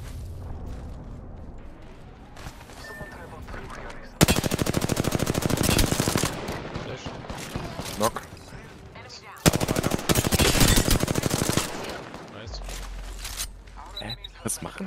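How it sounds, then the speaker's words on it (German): Automatic gunfire in an online battle royale game, Apex Legends, with two long sustained bursts of rapid shots between quieter stretches, close and loud, while players talk over it. "Oh, jetzt werde ich von hinten beschossen."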